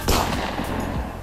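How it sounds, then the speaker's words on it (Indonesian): Gunshots fired in a film scene from the action movie Extraction, a sharp loud report at the start followed by a sustained dense rumble and echoing wash with further impacts, no talking. "Tiba-tiba Ovi nembak"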